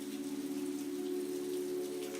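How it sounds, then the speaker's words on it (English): Rain falling steadily, a soft constant patter of drops on a surface with a faint underlying hum, even and unbroken throughout. "a few raindrops splattered against their faces."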